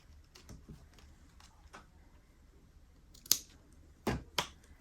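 Scissors cut a strip lip on a diamond painting project, giving a few sharp, quiet snips and clicks spaced apart, with the louder cuts near the end and no talking.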